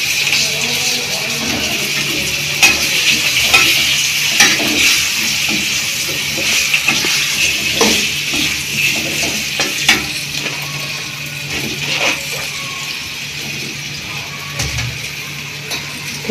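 Raw mango pieces frying in a pan, a steady loud sizzle and hiss close by with occasional stirring scrapes and clinks.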